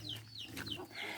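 Chickens cluck and chirp in short, scattered bursts over a low steady hum, moderately close and fairly quiet, on a farm that also keeps pigs and carabao.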